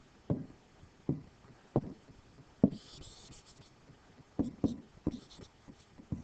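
A pen writes on paper at close range: a series of short, distinct tapping strokes spaced about a second apart, with a few quick scratchy marks between them.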